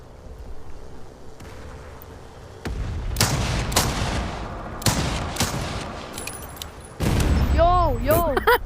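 Gunfire in the Forefront VR shooter: several bursts of shots and impacts with sharp transients, fairly loud, some tonal ringing near the end, with voices talking in the background.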